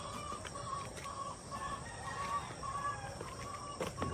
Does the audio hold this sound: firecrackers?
no